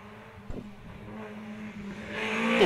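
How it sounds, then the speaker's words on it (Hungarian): A rally car approaches on a special stage of the 2018 Ózd-Salgó Rallye, its engine note building from faint and distant to louder toward the end, with a brief knock early on and no voices. "Most hallok autóhangot, érkező autóhangot."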